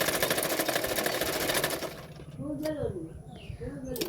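A sewing machine stitching blouse fabric runs as a fast dense buzz for about two seconds, then stops, leaving quiet room sounds and a few faint chirps.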